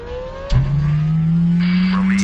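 APU starting up on a C160 aircraft in a flight simulator: a sudden onset followed by a steadily rising whine with a constant engine drone beneath, climbing in pitch as it spools up.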